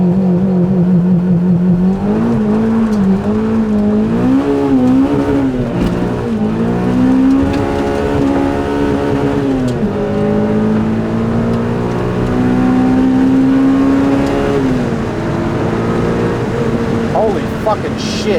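A Honda Civic Type R accelerates hard with wheel spin, its loud engine note climbing and dropping through repeated revs and gear changes for the whole stretch, with a voice faintly present.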